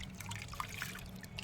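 Vegetables being rinsed by hand in water, a soft continuous slosh with a few small drips and splashes, close and quiet, with no talk.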